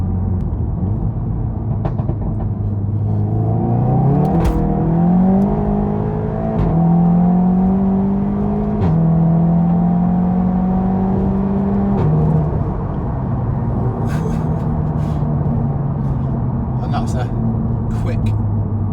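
A Seat Leon Cupra 300 with bolt-on modifications pulls hard in sport mode, its engine note climbing through several gears with a droning rumble and brief dips at each shift, loud and close from inside the cabin.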